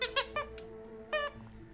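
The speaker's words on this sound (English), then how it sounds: "Why are you bringing me your squeaky toy?" A dog's squeaky toy squeaks several times in quick bursts, then once more after a pause, close and fairly loud over a quiet background with faint game music.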